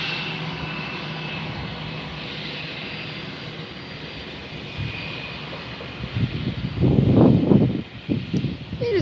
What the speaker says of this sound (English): our next arrival sounds like it's going to be a Frontier flight